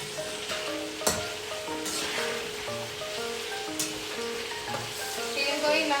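Food frying and being stirred in a pan for a Batangas-style pochero in a home kitchen, with a steady close sizzle broken by scraping strokes of a ladle and a few sharp clatters.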